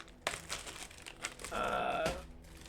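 Crinkly rustling of a pumpkin spice pretzel snack bag, close and fairly quiet, with scattered crackles building into a denser burst of crumpling near the end; no talking.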